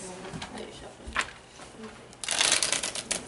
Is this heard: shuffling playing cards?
yes